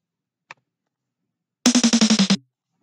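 An electronic snare roll of about nine quick, even hits, pitched down every two snares so the roll steps lower as it goes, preceded by a faint single tick.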